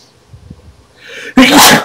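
A single loud, explosive sneeze bursts out near the microphone after a quiet stretch with faint background murmur.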